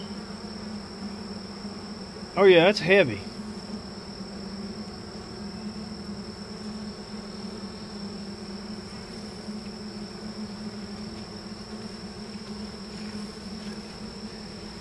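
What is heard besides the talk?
honeybees buzzing at horizontal hive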